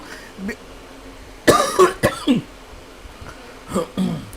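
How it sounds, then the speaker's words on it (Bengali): A man coughs in several short, harsh bursts at close range, with a quieter throat sound before them and another pair of coughs near the end, all in a quiet room. "আজকে একটু বেশি কাশি আসছে"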